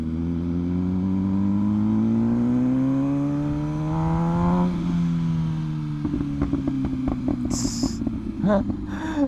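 An MV Agusta Brutale 1000RR motorcycle engine while riding, its tone climbing steadily under acceleration and then dropping back, followed by a burst of rapid crackles and pops on the overrun, loud and close.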